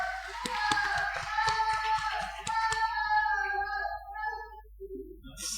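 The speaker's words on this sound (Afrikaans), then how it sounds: "Kom ons klap hulle almal lekker aan" A church congregation at a Sunday service applauds its members with a run of steady, rhythmic hand claps over sustained tones, fading out near the end.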